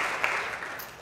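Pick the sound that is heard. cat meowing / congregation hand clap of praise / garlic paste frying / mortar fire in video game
congregation hand clap of praise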